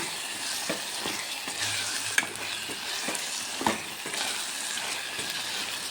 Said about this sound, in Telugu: కొద్దిగా సేపు ఒక టూ మినిట్స్ ఇలా బాగా కలిపేసి స్టవ్ కట్ చేస్తాను